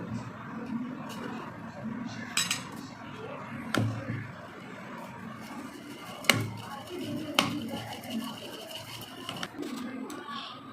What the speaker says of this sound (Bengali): এবার আমি একটা চামচের সাহায্যে এগুলোকে মিক্স করে নেব